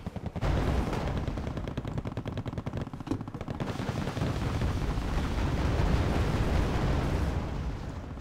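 Napalm strikes and gunfire in the real-time strategy game Wargame AirLand Battle make a dense, continuous roar of rapid shots and rumbling blasts, loud and sustained throughout.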